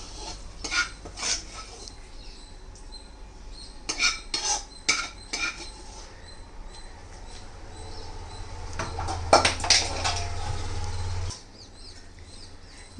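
A spoon folds tomato mixture into cooled, lukewarm cooked rice, giving soft scraping and clinking against the pot in short irregular bursts, with a low background hum that cuts out near the end.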